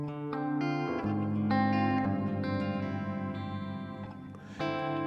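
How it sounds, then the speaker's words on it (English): Guitar played through a ZOIA pedal with the reverb mix at full so only the reverb-wet signal feeds a vibrato effect, sustained notes and chords swelling with wobbling pitch and lush reverb tails, no talking. "So we're actually going to turn this mix all the way up to 100 so that it's only sending the affected reverb signal to the vibrato."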